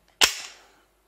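A single sharp metallic snap as the hammer of a CZ P-07 compact pistol drops on a dry trigger pull, close and crisp with a short fading ring.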